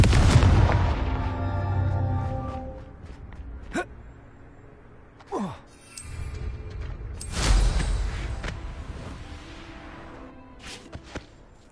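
Confringo fire spells cast in the Hogwarts Legacy video game, giving a loud booming blast at the start, then a sharp crack and several further bursts and whooshes spread through the clip, with no talking.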